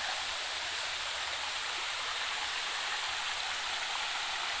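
Hill water streams and splashes down near a cave temple in the forest on the Andhra Pradesh–Telangana border, a continuous loud rush filling the whole stretch, with no speech.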